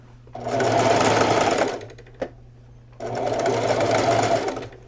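A sewing machine stitches a crochet blanket into pants in two loud, steady bursts of about a second and a half each, separated by a pause with a single small click.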